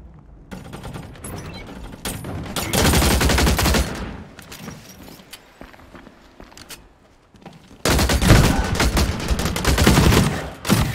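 Gunfire from the video game The Cycle: Frontier crackles in two loud, dense bursts of rapid shots, with quieter scattered reports, clicks and footsteps between them.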